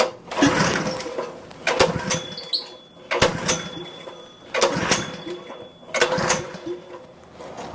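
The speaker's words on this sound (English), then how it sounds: "I like to pull unfamiliar machines very slowly the first time" Starter cord of a Dewalt pressure washer pulled slowly several times, each pull giving a rising mechanical rasp and rattle, spaced about every one to two seconds, close and fairly loud.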